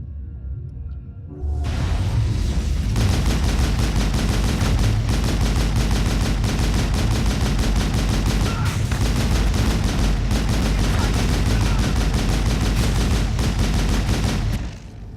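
Sustained gunfire in the Mass Effect 1 video game, a dense, loud barrage of rapid shots and booms running nearly unbroken for about thirteen seconds after a brief quiet opening.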